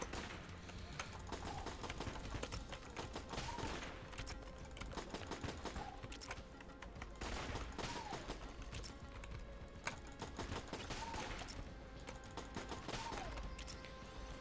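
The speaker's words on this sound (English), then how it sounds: "now we have sniper bullets" Rapid gunfire from sniper bullets in the twin-stick shooter Enter the Gungeon, a dense, steady stream of sharp cracks and pops over busy game music with rising tonal chirps, continuous and loud throughout.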